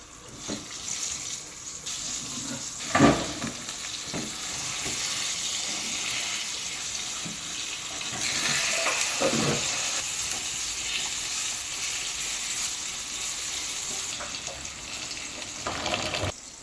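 Eggplant for Bengali begun bhaji fries in hot oil, giving a steady, close hiss of sizzling with a few clinks and scrapes of a utensil against the pan over about sixteen seconds.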